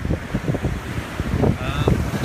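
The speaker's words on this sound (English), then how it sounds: "It's a windy night tonight" Wind gusting on a stormy night near trees and rising water, a steady broadband rush and buffeting against the microphone with low rumbling throughout.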